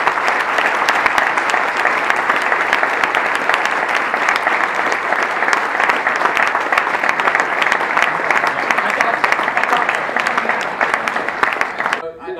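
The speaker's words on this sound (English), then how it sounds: "Can we give him one more big round of applause?" A big round of applause at a commercial real estate forum, a long, dense and loud wash of clapping from a large audience that holds steady and then stops abruptly.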